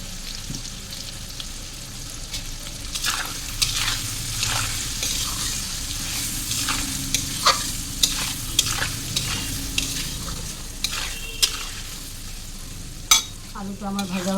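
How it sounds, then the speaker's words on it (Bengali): Potatoes sizzle in hot oil with turmeric and salt, with repeated scraping stirs and clinks of a spatula against the pan over a continuous frying hiss. "আলুটা আমার ভাজা ভাজা হয়ে গেছে"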